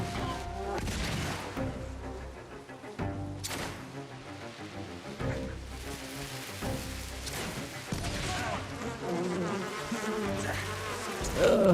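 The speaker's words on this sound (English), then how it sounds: "Bees." A swarm of bees buzzes in a video game, a steady droning hum layered over busy game music and effects, loud and continuous throughout.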